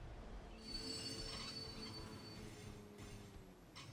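Train rolling past in Saints Row 2, with sustained metallic wheel squeal over a steady low rumble, loud and close throughout.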